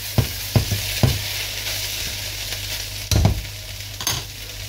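Meatballs in Andalusian sauce sizzling steadily in a pan, with a few distinct scraping stirs early on and a couple more later, close and clear over the constant frying hiss.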